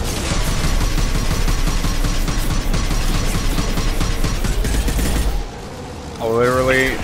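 Rapid, loud bursts of shotgun and weapon fire in Mass Effect 2 during a firefight, a dense run of blasts for about five seconds, then a brief lull before an electronic tonal sound rises near the end.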